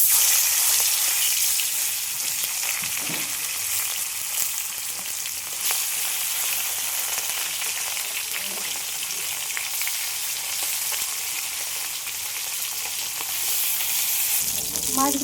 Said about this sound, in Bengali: তেল গরম হয়ে গেছে, এবার আমি মাছগুলো সব ভেজে নেব।